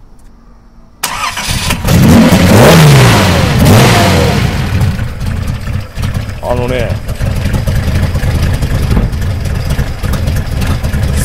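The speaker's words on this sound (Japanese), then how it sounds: "それではオーナーさん、エンジンかけていただいてよろしいでしょうか？" A Nissan F30 Leopard classic car engine with Weber 45 mm carburetors cranks and roars to life with a rising rev, then settles into a steady rumbling idle with a brief rev; a voice speaks briefly near the start.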